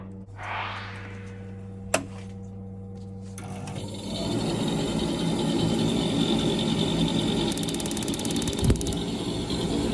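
A Vaillant Turbomax gas boiler with cracked insulation panels fires up after a service: a click and brief ignition tick, then a steady loud burner roar with fan hum and a rattling buzz building over several seconds.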